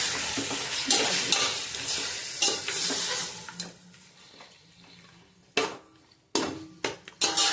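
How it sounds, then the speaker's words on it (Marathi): Mutton sautéing in oil in a pot for a spicy Ghati-style rassa, a loud sizzle that fades as the meat settles, followed by several sharp clanks of a spoon stirring against the pot. "अर्धा तास चांगलं तेलात आपण वाफवून घेणार आहोत."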